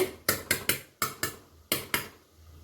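A small spoon lifts a bowl off steamed rice cake (bhapa pitha) after the bowl is flipped onto a cloth, giving about seven sharp, close clinks and taps in an uneven rhythm, each fading quickly, with no talk.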